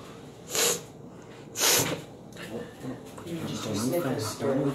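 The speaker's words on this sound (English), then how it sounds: "Your sniffles were scaring me." A raccoon sniffles and snorts up close, two sharp bursts early on, then softer snuffling breaths while a person talks underneath.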